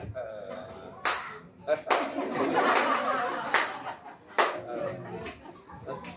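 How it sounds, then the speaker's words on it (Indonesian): A few sharp hand claps ring out, spaced irregularly, as someone demonstrates the way a former gambler claps, with a murmuring crowd and faint laughter underneath. "dia tepuk tangannya begini"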